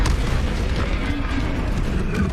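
Bombarda spell explosions in the Hogwarts Legacy video game: a dense, continuous stretch of deep, rumbling booms that stay loud and heavy throughout, with no talk over them.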